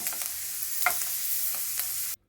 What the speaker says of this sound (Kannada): ಇದು ಬ್ರೌನ್ ಕಲರ್ ಆಗೋಷ್ಟು ನೀಟಾಗಿ ಫ್ರೈ ಮಾಡ್ಕೊಳ್ಳೋಣ